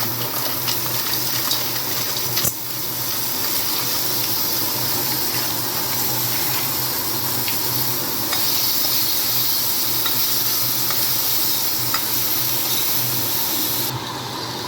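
Frozen green peas tossed into a hot pan for a spinach, coriander and mint soya paneer pasta, giving a steady, loud sizzle and hiss with stirring scrapes that runs throughout with no talk.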